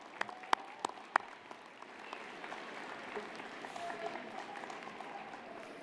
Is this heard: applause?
yes